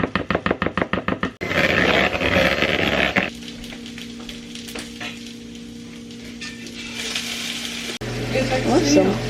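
Potatoes and onion frying in a pan over low heat, with a steady soft sizzle interrupted by stirring and scraping, some rhythmic chopping-like taps at the start, and clattering pan sounds near the end.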